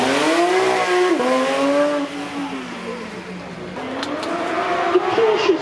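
A Porsche GT3 RS with a 4-litre flat-six making 513 horsepower accelerates hard on a supercar run, its engine note climbing through rising gear pulls with brief shift dips, loud and fairly close, while a commentator talks over it.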